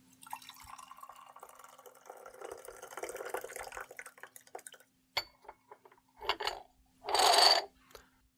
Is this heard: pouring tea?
yes